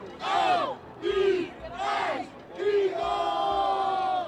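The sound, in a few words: large crowd flooding out into the streets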